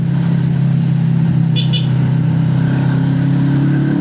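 A car engine labouring up a steep uphill road, a loud, steady low drone and rumble held under strain throughout, with no pauses.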